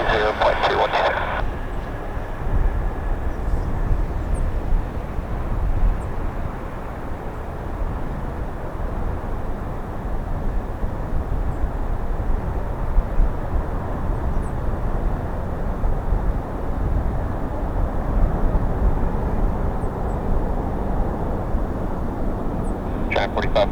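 A Boeing 747 Dreamlifter takes off from Paine Field (PAE), a loud, steady, broadband jet engine roar sustained throughout with little change in level.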